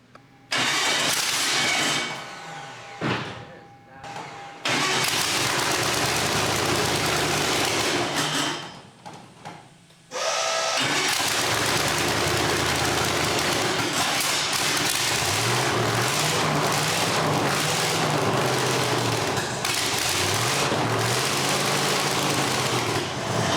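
A 383 small block Chevy V8 cranks in loud bursts, cuts out, cranks again, then fires and keeps running as a rough, steady, close engine roar for over ten seconds.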